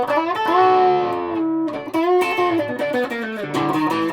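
A Hagstrom Tremar Super Swede electric guitar with P90 pickups plays through heavy distortion, thick sustained chords and ringing notes in a short riff, loud and close with no talk.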